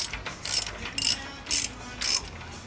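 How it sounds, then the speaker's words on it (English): A ratchet clicks in four or five quick bursts, evenly spaced about half a second apart, as it tightens the wheel bearing nut on a Bronco while the hub is rotated. The sound is close and crisp, with no talking. "rotate this while you're tightening it up so you seat the bearings"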